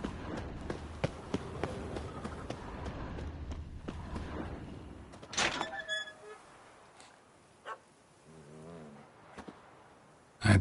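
A cat in The Witcher 3 video game, heard as faint, soft meows and purring sounds scattered among quiet game ambience, footsteps and thumps.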